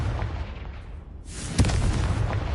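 A Confringo blasting spell going off in a Harry Potter video game, a loud booming explosion burst with a dense roaring rumble that sustains and swells after the impact.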